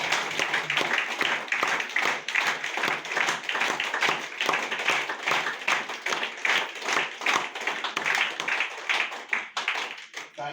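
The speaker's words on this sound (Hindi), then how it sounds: "उनके लिए एक जबरदस्त ताली" Audience at a DXN meeting clapping enthusiastically to welcome first-time attendees, loud rapid hand claps from a packed room in a dense, driving rhythm lasting about ten seconds, with faint voices mixed in.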